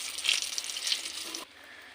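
Bajji fritters dropped into hot oil sizzle and crackle with bright hissing bursts for over a second, then the frying noise drops abruptly to a faint, steady simmer.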